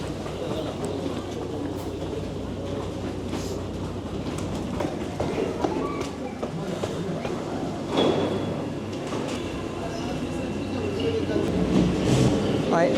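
Interior of an old Paris Métro train on line 3 toward Gallieni, steady loud rumble and rattling clatter throughout, with chatter from a crowded carriage beneath the running noise.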